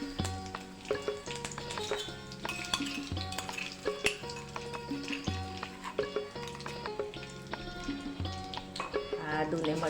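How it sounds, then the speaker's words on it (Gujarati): Curry leaves and cumin frying in hot oil for ragda patties, with a spoon stirring and clinking against the pan in a steady rhythm over a constant close sizzle. "હવે તેમાં મીઠા લીમડાના પાન એડ કરીશું."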